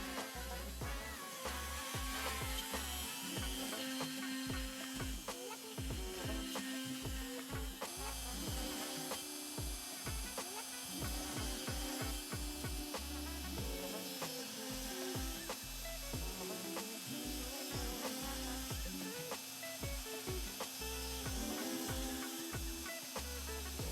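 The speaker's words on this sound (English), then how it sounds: "So we're gonna try and cut that out on the CNC." A CNC router cuts out a wooden platform for holding router bits, a steady close whine of the spindle with a rapid, uneven chatter of the bit biting into the wood throughout.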